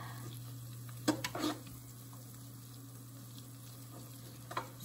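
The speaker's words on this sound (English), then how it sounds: "the butter is melting nicely" Butter melts in a pan with a quiet, steady sizzle under a constant low hum, broken by a few brief, sharper clinks and scrapes of a utensil, no voices heard.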